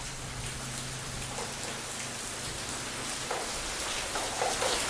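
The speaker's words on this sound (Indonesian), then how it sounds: "Hujan semakin deras" Heavy rain pours steadily and loud, a dense continuous hiss of drops close by with no voices over it.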